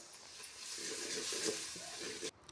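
Garlic paste fries in a pan with a steady soft sizzle, broken by scraping stirs, faint and close, fading out abruptly at the end.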